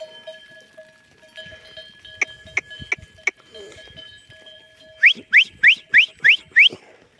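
A herd of goats settling down outdoors on a farm, with bleats and bell-like clinks scattered through the first seconds, then a close run of six rhythmic calls near the end, over faint background sound.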